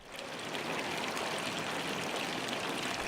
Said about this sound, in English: The historical fountains add extra character to the Old Town.